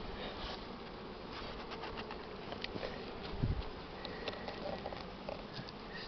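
Honey bees buzz around an open beehive during hive nest expansion and mite treatment. A faint, steady insect hum runs throughout, with occasional soft taps and handling noises close by.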